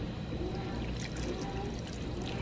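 Water poured into a pot of taco soup being cooked at home, a steady continuous pour with trickling, close and fairly quiet, no talking.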